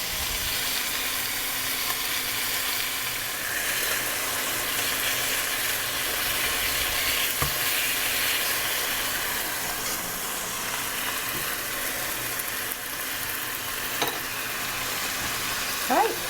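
Pieces of lemon chicken piccata fry in a pan over medium-high heat, giving off a steady, loud, close sizzle with a constant hiss that runs the whole time with no talking.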